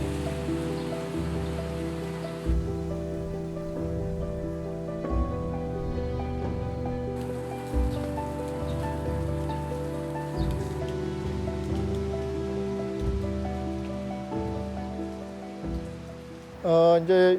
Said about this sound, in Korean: 마치 오늘 그래도 비가 오니까 목마른 나무에도 또 농부들의 근심도 좀 씻어줄 것 같습니다.